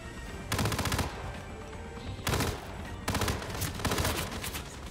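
Gunfire in Hitman Freelancer comes as three rapid automatic bursts, each about half a second long, loud and close over a steady game background, with no talk.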